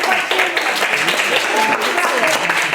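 An audience claps steadily and loudly through a short stretch of applause at a Chuvash folk event, the dense clatter of many hands continuing without a break.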